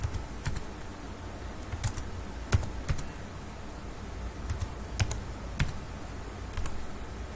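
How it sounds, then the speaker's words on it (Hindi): Someone enters a CNIC number on a computer keyboard, with sparse, separate key clicks arriving every half second or so, close and fairly quiet over steady room noise. "CNIC नंबर टाइप करें"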